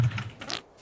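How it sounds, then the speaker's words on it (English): Brief burst of computer keyboard typing at a desk, a few soft key presses clicking close to the microphone with no talking. "where I'm pressing my keys is far enough away that it shouldn't pick it up"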